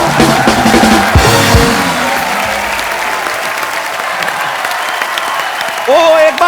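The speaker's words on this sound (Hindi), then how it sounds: "ओ एक बार फोर्स 2 की सारी टीम के लिए जोरदार तालियां।" A studio audience on The Kapil Sharma Show applauds with loud, sustained clapping and a few cheers, the dense roar holding steady throughout, with brief voices and a spoken line breaking in toward the end.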